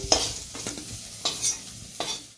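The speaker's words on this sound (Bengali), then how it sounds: "লাল লাল করে ফুলকপিগুলোকে ভেজে দেবো কম আঁচ করে" Cauliflower pieces frying in oil over low heat in a home kitchen, with soft steady sizzling broken by a few louder stirring scrapes and clatters close by.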